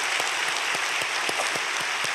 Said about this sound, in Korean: 박수로 뜨겁게 환영하겠습니다